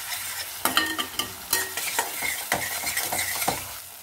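Tomato and spice masala frying in a pan with a spoon stirring it, a soft sizzle under repeated scraping and clacking strokes in an uneven rhythm, close by and without speech.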